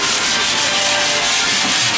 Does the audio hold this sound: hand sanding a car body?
yes